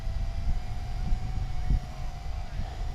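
JJRC H26wh budget Wi-Fi quadcopter flying in strong wind above trees, its motors straining against the gusts: a steady, thin motor whine runs throughout over heavy, rumbling wind buffeting.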